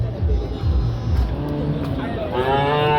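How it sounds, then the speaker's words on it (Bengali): A cow lets out a long, low moo close by at a cattle market in Chougachha, amid the chatter of a crowd and background traffic, with people talking throughout. "এই যে একটা গরু"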